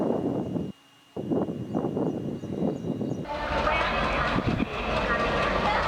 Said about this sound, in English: That's the Tuticorin Mysuru Express.